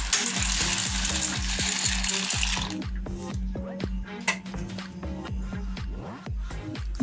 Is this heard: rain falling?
no